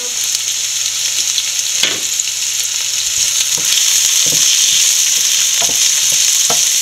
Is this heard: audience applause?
no